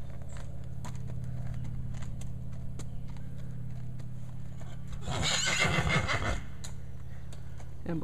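Horse whinnying inside a farm barn while walking into its stall, a loud neigh rising over hoof clops and a steady ventilation hum, nearby and clear.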